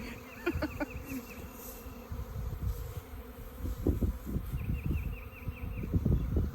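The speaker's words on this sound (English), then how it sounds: "It's a tornado of bees." A dense swarm of honeybees being moved into a swarm trap buzzing continuously close by, a steady droning hum with individual insects passing near.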